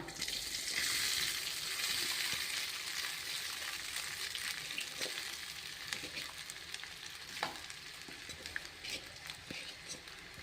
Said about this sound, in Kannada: ಮಾಡಿರುವಂಥ ಅನ್ನ ಹಾಕೋಣ ರೈಸ್ ಬಿಡಿ ಬಿಡಿಯಾಗಿ ಅನ್ನ ಮಾಡಿವಲ್ಲ ಇವಾಗ ಹಾಕೋಣ